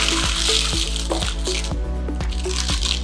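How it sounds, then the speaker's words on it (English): Gluten-free old-fashioned oats are folded into a chocolate oatmeal batter, giving soft, wet squishing strokes in a steady rhythm, roughly twice a second, with some background hum. "little by little we're gonna start folding our oats, which need to be completely embedded on the mix"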